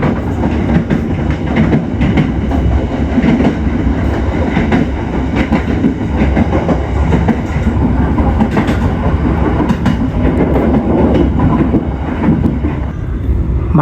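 A commuter train rolls over rails where the tracks diverge, a loud steady rumble with rhythmic clickety-clack of wheels over joints, heard from inside the moving train with no talk.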